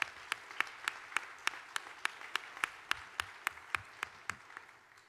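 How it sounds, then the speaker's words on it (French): At a church ordination, faint clapping beats in an even, rhythmic pulse of sharp claps, keeping steady time for several seconds. "Applaudissez"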